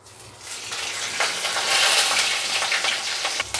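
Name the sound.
cumin seeds tempering in hot oil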